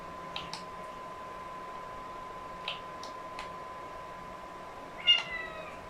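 A house cat meows a few short, fairly faint times over a steady electronic hum, followed by one louder, nearer meow toward the end.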